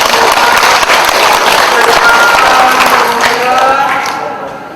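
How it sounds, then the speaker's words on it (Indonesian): Children applaud at a grade 6 graduation and farewell ceremony at SD Mardi Waluya Cibinong, loud close clapping from many hands that holds strong before gradually thinning and fading toward the end. "Tepuk tangan anak-anak buat"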